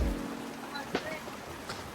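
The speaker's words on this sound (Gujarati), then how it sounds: "બહુ એટલે બહુ વરસાદ આવે" Heavy rain hisses continuously during a flood in Surat, with a few brief louder splashes, fairly close and constant throughout.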